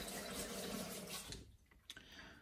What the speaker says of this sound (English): I'm gonna get us another rinse.